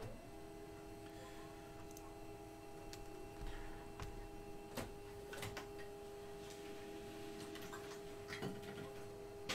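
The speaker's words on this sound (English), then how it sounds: "All right, so that's printing out right here." Printer printing out a list, a faint steady mechanical hum with a constant tone and light periodic ticks and clicks.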